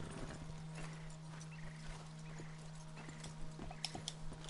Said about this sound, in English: Can this horse move any faster?